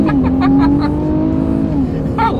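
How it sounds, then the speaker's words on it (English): Infiniti Q50 Red Sport 400 accelerating hard on a straightaway, a loud close engine roar rising in pitch through a gear change, with brief voice sounds over it. "let's see how quickly we can get the Q50 Red Sport, AKA Nissan Skyline here, up to speed"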